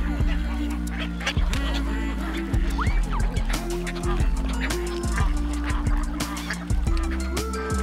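Swans calling on the water, repeated honking calls in irregular bursts close by, with birds overlapping one another and some background noise underneath.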